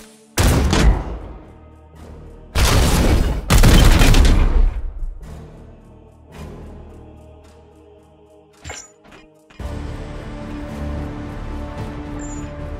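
A loud gunfire volley in the video game Warhammer 40,000: Chaos Gate - Daemonhunters, with heavy bursts of fire and booming impacts followed by a few sharp cracks and a lingering rumble.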